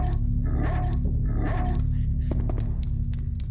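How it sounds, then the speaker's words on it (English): Dog growling and barking in the Haunting Ground video game, loud rough growls in bursts over a steady game background hum, followed by sharper short barks and clicks. "you're barking at him, and then you barked at this"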